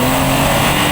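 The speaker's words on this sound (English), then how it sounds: "The turbo noises this thing makes." A remapped BMW 1 Series under load gives a loud, continuous rush of engine and turbo noise for under a second, with no talking.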